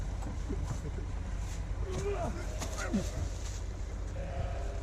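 Sheep on a farm bleat a few times at a distance, short wavering calls over a steady low rumble and faint background voices.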